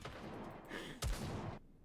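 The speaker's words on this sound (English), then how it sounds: "The sound of gunfire and explosions can be heard in the distance." Distant gunfire and explosions in the NIKKE video game, a rumbling barrage of booms building to one sharp, heavy blast midway before fading into near silence.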